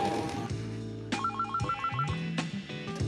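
A telephone rings indoors with a repeating electronic warble over background music in a Spanish-language TV drama scene, loud and continuous.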